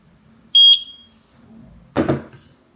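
A single sharp, high-pitched electronic beep from a Eufy Homebase chime during syncing, loud and close in a quiet room, followed a moment later by a short handling noise.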